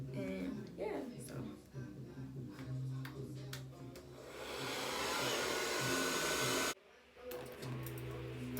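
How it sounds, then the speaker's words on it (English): A hair dryer blows on a lace frontal wig, a loud, steady rushing whir that swells for several seconds, cuts off abruptly, then resumes more softly, with a person talking over it. "Now I'm just gonna blow dry it"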